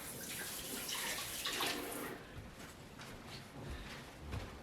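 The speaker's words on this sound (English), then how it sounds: "let me wash my hands here real quick." Hands are washed beneath a running kitchen tap, water splashing steadily and close before the flow eases into softer trickling.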